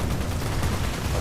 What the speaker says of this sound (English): I'd like to know what those guys are using for weapons. 50 cal maybe?